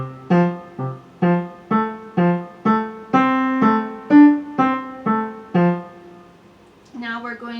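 Solo piano playing a phrase from Schumann's The Wild Horseman, about a dozen evenly spaced detached notes and chords in a steady bouncing rhythm, close and clear, with a softer trailing bit at the end.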